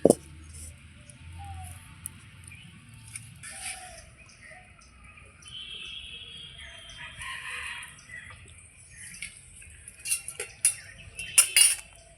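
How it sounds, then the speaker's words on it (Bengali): A wok is set on a lit stove with scattered metallic clinks and knocks of pans and utensils, fairly quiet at first and growing into a cluster of sharper clatters near the end, while a rooster crows in the background. "এইবার আমি সবার প্রথমে কড়াই বসিয়ে দিচ্ছি।"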